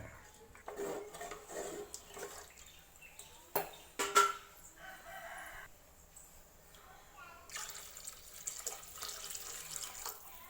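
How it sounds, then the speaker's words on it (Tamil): Water pours and splashes intermittently into a pan while making manathakkali keerai rasam, with clattering and a voice talking over it. "தேவையான அளவு தண்ணி ஊற்றிக்குவோம்"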